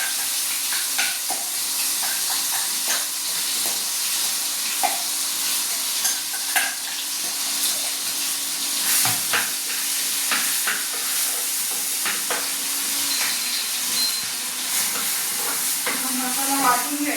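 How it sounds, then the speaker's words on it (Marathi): Ground wet masala frying in a kadhai, a steady close sizzle and hiss with intermittent stirring scrapes and clinks against the pan, no voices. "जो वाटलेला मसाला आहे ना तो टाकून देतो कढईमध्ये"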